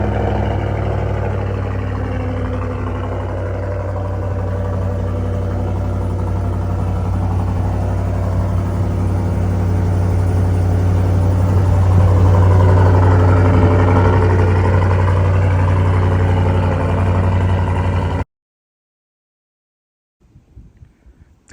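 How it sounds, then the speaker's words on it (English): A Chevy Silverado 6.2L V8 fitted with a Borla S-Type exhaust idles close by, a steady deep rumble with a slight swell midway, then cuts off abruptly before a faint noise returns near the end. "beautiful sound of a Borla exhaust."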